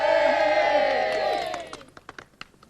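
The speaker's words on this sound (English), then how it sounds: "will you please give a nice big round of applause for act number 1" A crowd cheers and whoops loudly for a stage act, the roar fading after a couple of seconds into scattered claps and calls.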